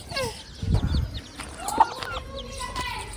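A chicken clucks a few times nearby, short throaty calls over faint background noise and distant voices.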